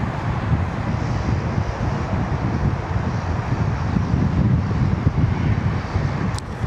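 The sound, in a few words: wind blowing at Sydney Airport ATC tower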